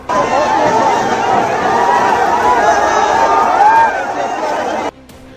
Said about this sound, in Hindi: पटना की सड़क पर प्रदर्शन और तिरंगे से पटी ये भीड़